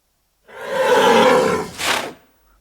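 A single, unlayered animal roar used as a sound effect layer: one heavy growling roar swelling for about a second, then a shorter second burst, alone against silence.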